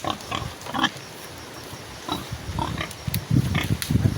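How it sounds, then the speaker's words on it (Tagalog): A pig on a Filipino farm, a sow being raised for breeding, gives several short grunts and snorts close by, scattered irregularly through the stretch with quiet ambient noise between them. "Yun guys, baboy namin guys, gagawing inahin."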